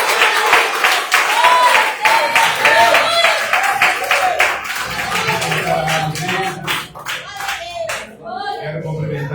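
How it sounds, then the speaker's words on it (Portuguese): A church congregation claps and applauds loudly to welcome the preacher at a worship service, dense rhythmic clapping filling the room and tapering toward the end, with some voices mixed in. "vamos receber o servo do Senhor com as palmas bem alegres para o Senhor Jesus"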